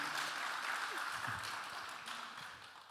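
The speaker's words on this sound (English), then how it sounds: "You need to feel the applause." A conference audience applauds steadily after a talk on a real-time portfolio risk calculation system, a dense, even clapping that fills the hall and tapers slightly toward the end.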